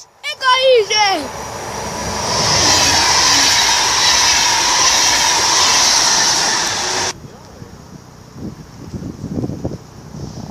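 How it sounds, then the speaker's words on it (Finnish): A train rushes past up close with a loud, sustained roar and high squealing wheels, preceded by brief voices, then cuts to quieter rustling. "Juna, taas."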